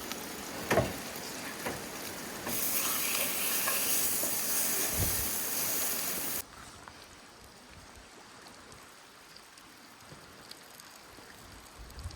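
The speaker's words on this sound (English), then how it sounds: "now the second hamburger patty can go on" A hamburger patty sizzles in a hot pan outdoors during a catch-and-cook meal, a loud, steady frying hiss for several seconds that then drops to a quieter, softer sizzle with a few faint clicks.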